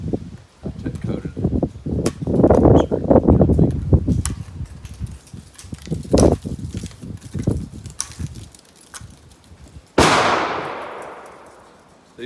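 A Rossi R92 lever-action rifle with a 20-inch barrel chambered for .357 Magnum fires a single loud, sharp .38 Special shot with a 158-grain coated bullet, echoing away near the end after a stretch of handling clatter and background voices.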